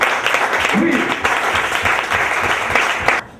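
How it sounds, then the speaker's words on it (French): Applause from a church congregation at a gathering, steady dense clapping with some voices mixed in, cutting off abruptly near the end. "Donc ceux qui ont lu là, applaudissez pour eux"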